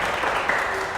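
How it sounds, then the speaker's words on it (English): Applause from an audience at a closing ceremony for a content week event, a brief, dense wash of many hands clapping at a steady level. "Please give some applause for her."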